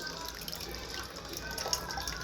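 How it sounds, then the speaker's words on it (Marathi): Grated potato being rinsed in clean water, a soft continuous swishing and trickling of water close by, fairly quiet throughout. "किसलेला बटाटा आपण स्वच्छ पाण्याने धुवून घेऊयात."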